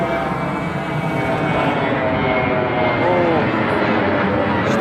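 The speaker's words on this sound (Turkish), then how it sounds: "uçaklar çok yakından geçiyorlar." A low, steady roar of an airplane passing close overhead near an airport fills the scene, loud and sustained throughout in an outdoor park by a waterfall.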